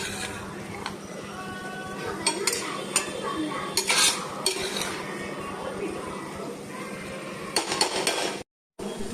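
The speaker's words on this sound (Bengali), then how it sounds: "রসুন পেস্টটা দেওয়ার পর একটু সতে করব।" Ginger garlic paste is sautéed in a pan for a low-oil diet chicken dish, with repeated clinks and scrapes of a utensil against metal over a faint sizzle and a voice talking in the background.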